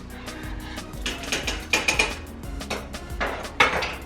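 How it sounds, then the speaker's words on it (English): Elbow macaroni noodles, a whole box, stirred in a pot with oil, giving repeated scraping and clinking of a utensil against the pot in irregular strokes, close and fairly loud with no talking. "I'm just gonna stir these a little bit so I can get the oil in there"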